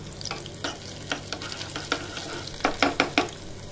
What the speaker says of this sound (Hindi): यहाँ मेरा घी गर्म हो चुका है, इसे मैं डालूंगी हरी लहसुन और हरी मिर्च। इन्हें हल्का सा फ्राई कर लूंगी।